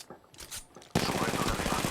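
Rapid automatic gunfire in a battle royale video game breaks out suddenly after a quieter stretch of a few faint shots, then carries on as a loud, dense burst to the end.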